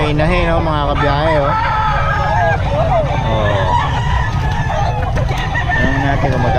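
Hens cluck and a rooster crows at a busy poultry market, loud and close, with voices and crowd chatter mixed in throughout.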